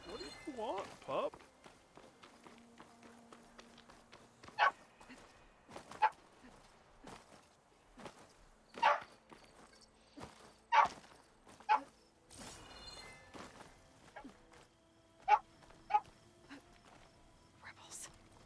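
A dog in the video game Horizon Forbidden West gives a series of short, sharp barks scattered over several seconds, with some whining between them, while someone talks over game sounds and footsteps.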